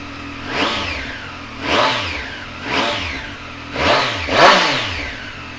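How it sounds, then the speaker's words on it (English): A 2018 Triumph Street Triple 765 RS motorcycle engine revved in five quick, loud blips from idle, each rising and falling sharply, close by with no talking. "I'll give it a quick start up so you can have a listen"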